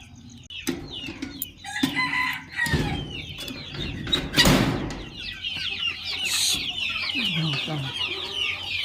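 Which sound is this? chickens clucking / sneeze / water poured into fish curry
chickens clucking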